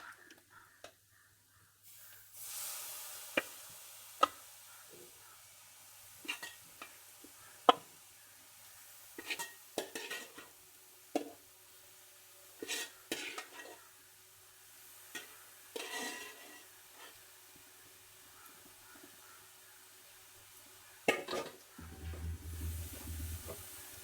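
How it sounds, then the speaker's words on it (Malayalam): Clam meat for a Kerala clam roast is stirred in a hot pan, giving a soft continuous sizzle broken by irregular sharp scrapes and knocks of the spoon, close by, with no one speaking. "ഇനി നമുക്ക് കക്ക ഇട്ട് കൊടുക്കാം."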